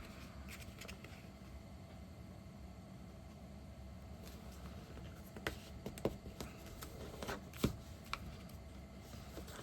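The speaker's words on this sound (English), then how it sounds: "Now we're going to fold this corner in here." A sheet of paper is folded into a paper airplane, with quiet rustling and soft creasing taps that grow a little more frequent toward the end.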